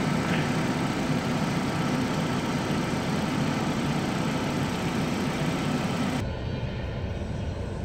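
A Saturn Ion engine idles in a steady, continuous drone after a head gasket sealer treatment, running alone without any talk. Near the end the rumble drops to a quieter, duller tone.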